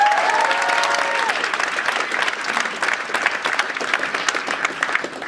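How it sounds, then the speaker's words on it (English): An audience applauds its founder at a UK launch event with steady, dense clapping that holds at moderate loudness and thins slightly toward the end, a brief tone sounding at the start. "Give him another round of applause."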